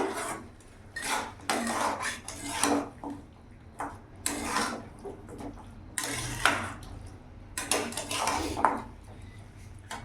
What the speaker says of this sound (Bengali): ধনে দিয়ে দিলাম এখানে ভালো করে নাড়াচাড়া করে নেবো